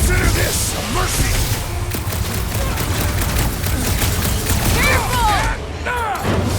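Rapid gunfire crackles through a gunfight near a reactor core in Marvel's Guardians of the Galaxy on Xbox Series S, loud dense bursts mixed with booms and mechanical clatter, with brief voices shouting over it.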